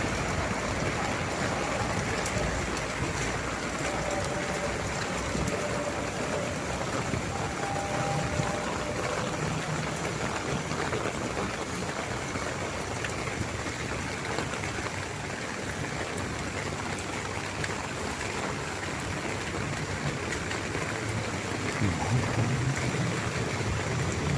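Heavy morning rain pours steadily at Chowkit, a dense, even hiss of downpour that stays constant and fairly loud throughout with no voices.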